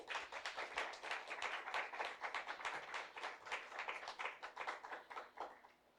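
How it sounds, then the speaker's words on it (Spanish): A church congregation claps for the Lord during a Spanish-language service, a brisk, rhythmic round of many hands clapping in pulsing waves, close and fairly loud, ending abruptly after about six seconds. "Den un aplauso al Señor"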